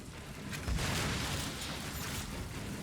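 Explosions burst on defeated enemies in the video game Outriders. There is a muffled boom near the start, followed by a sustained rumbling, crackling blast texture that stays fairly quiet and distant-sounding, with no talk over it.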